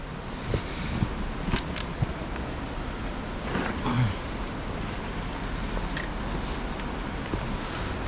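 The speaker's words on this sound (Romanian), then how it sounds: "Aici jos o să fie un pic de gălăgie din cauza fluxului de apă." Steady broadband rushing of water below a waterfall fills the whole clip, a constant roar with a few brief knocks and a voice faintly mixed in.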